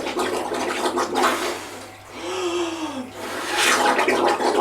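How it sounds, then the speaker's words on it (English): A front crawl swimmer exhales through the water surface at close range, a bubbling, gurgling rush of air and splashing water that rises and falls in two surges over about five seconds, with no talking. "So I blow out through the surface of the water, feel the end of the water on my lips"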